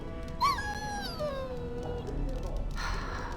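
A dog in the fantasy role-playing game Dragon Age Origins whimpers, a high, drawn-out whine that slides downward and fades over game background sound.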